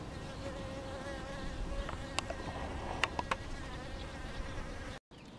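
Honeybees hum at a waterer in a continuous outdoor drone at an apiary, several insects buzzing nearby, with a few faint clicks over a low background rumble.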